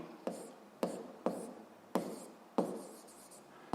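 Writing on paper during a sixth-grade math exercise: about six short, scratchy strokes come in a steady rhythm, close and clear, with no talking.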